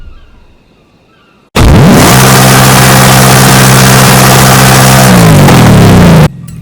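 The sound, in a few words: Ford Mustang engine revving with exhaust removed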